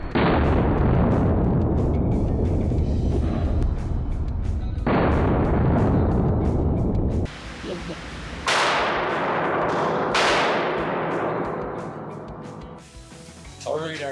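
Gunshots from a Glock 19 9mm firing Winchester 115 grain full metal jacket rounds at a range, several loud sharp reports spaced a few seconds apart, each with a ringing decay.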